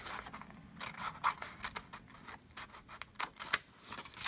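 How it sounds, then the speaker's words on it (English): Scissors snip through paper in a series of quick, crisp cuts with short pauses between, close and fairly quiet, while folding paper into a snowman wallet. "Now we'll bring in our scissors, and we're going to cut this piece out."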